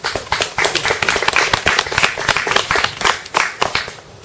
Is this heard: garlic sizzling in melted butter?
no